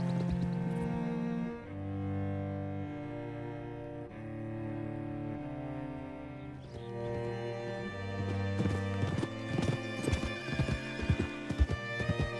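Horse hooves clip-clopping with neighing from a ridden horse in the Western game Red Dead Redemption 2, steady hoofbeats beneath sustained orchestral music, growing busier and more percussive toward the end.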